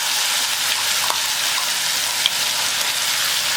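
Spice paste hitting hot oil already holding crackled mustard seeds and cumin sizzles hard and steadily for a gravy-style Gujarati eggplant curry, a dense close hiss with a few faint clinks and no talking.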